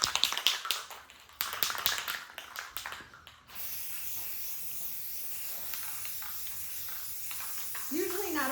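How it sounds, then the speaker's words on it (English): A steady hissing spray of spray paint onto a thrifted tray runs continuously for several seconds after a few sharp can taps and rattles, close and fairly loud, with a brief voice near the end. "Usually not a fan of spray paint, but you know, this is doing pretty good."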